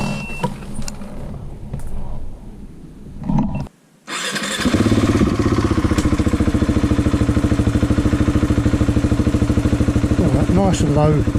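A Husqvarna 701 motorcycle on a French off-road trail section drops out briefly, then settles into a steady, close low rumble under light throttle. A voice comes in near the start.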